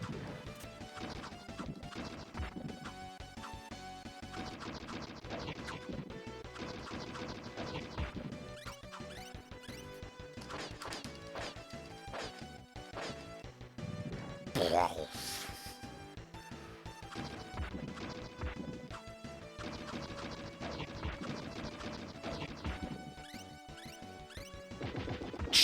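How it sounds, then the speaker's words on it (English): Punching and smashing hit effects from the SNES game Mighty Morphin Power Rangers, repeated impacts layered into a dense, constant mix of game music and effects, played at low volume with no talk. "the hitting effects are so good"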